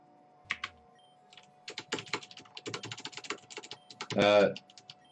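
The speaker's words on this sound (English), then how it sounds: "Sorry about my keyboard. It's very loud." Rapid, loud clicking of computer keys in uneven bursts, close up, with a short voiced sound near the end.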